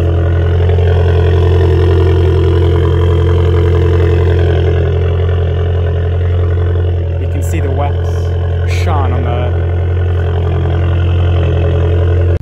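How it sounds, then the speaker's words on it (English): An Abarth 595 engine idles after a cold start with a steady, loud low rumble held throughout; brief higher whines and blips appear near the middle. "Alright guys, we are back with another cold start."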